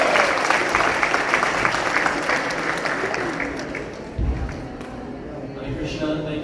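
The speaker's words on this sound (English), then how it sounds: "Can we give another big round of applause?" A large audience at an ISKCON Toronto Sunday feast lecture applauds in a loud, steady round that slowly tapers, with voices mixed into the clapping.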